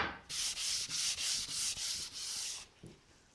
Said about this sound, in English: I'm just sanding it with a little 320 sandpaper.